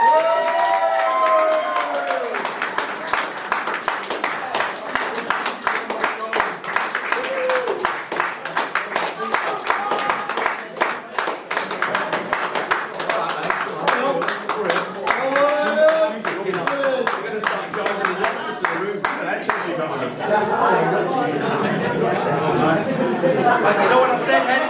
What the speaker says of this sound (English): Let's have a big cheer,